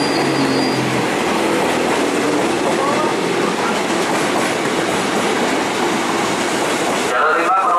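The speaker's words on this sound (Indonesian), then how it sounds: "Jalur 5 masuk mengakhiri perjalanan di stasiun Tanah Abang" A TM 6000 commuter train arrives at Tanah Abang station track 5, a loud continuous rumble of wheels and rail clatter with a station announcement voice over it and a faint squeal near the end.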